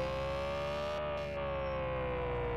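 Steady siren from a video-game ambulance, one sustained wailing tone that holds almost flat and bends slightly downward near the end, loud and continuous over a constant engine drone, with no talking.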